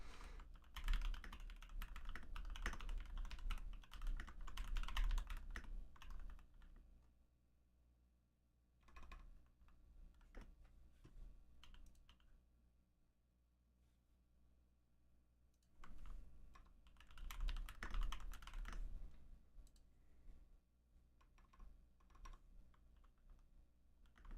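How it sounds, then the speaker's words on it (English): Someone types on a computer keyboard in bursts, with rapid soft key clicks, then quieter pauses between flurries, close by and fairly faint. "What's going on with my typing today, man?"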